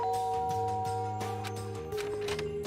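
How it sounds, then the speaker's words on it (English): An electronic doorbell chime rings at a door in the video game Danganronpa, its steady ding-dong tones sounding clearly over quiet background game music. "there's a doorbell next to the door"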